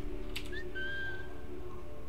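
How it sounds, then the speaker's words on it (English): A character in Assassin's Creed 3 gives a short rising whistle followed by a longer steady whistled tone, faint and thin over a constant low game ambience. "I wonder if I can whistle from all the way over here and have one of them hear it."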